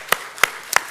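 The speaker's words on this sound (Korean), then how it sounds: "하나님께 영광의 박수 올려드렸으면 좋겠습니다" Three sharp, evenly spaced hand claps ring out in a church during a Sunday worship service, each a crisp, loud smack with brief room echo.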